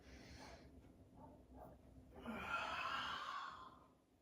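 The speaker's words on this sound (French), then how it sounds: "la respiration pour cet exercice est puissante" Powerful breathing during an exercise: a close, strong exhale builds into a long, loud forceful breath, heard alone and fairly quietly.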